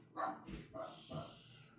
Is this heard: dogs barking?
yes